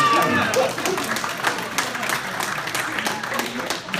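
An audience at a 50th high school reunion applauds and cheers in a hall, a dense wash of clapping that starts strong and gradually thins over about four seconds, with voices mixed in.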